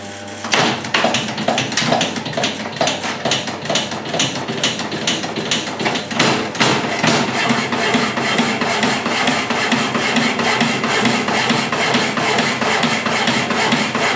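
An old Milbro 5-inch power hacksaw cutting metal stock in a workshop, giving a loud, steady, rhythmic back-and-forth rasping with regular strokes throughout; no talking.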